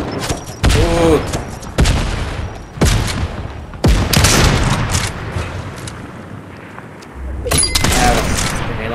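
Grenade launcher firing in Fortnite, several sharp booming shots with explosive bursts spaced a second or so apart, loud and close, with game mechanism clicks between them.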